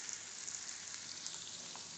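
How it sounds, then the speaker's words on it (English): Onions sautéing on a high flame with cumin seeds for Mumbai-style black pav bhaji, a soft steady crackling sizzle throughout, fairly quiet and without voices. "On a high flame we saute the onions."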